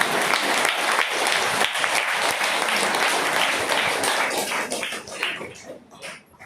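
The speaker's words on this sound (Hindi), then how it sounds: "मम्मा दिवस में आप अपने खातर ताली बजाओ।" An audience of mothers at a spiritual gathering claps together, a dense burst of applause that holds steady for several seconds, then thins out and fades with a few scattered final claps.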